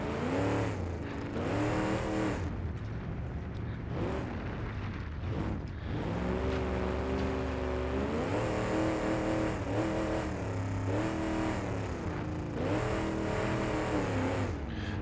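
A retired cop car's engine and transmission strain hard in BeamNG.Drive, loud continuous revving with whining pitch sweeps rising and falling as the drivetrain labors, no voices over it.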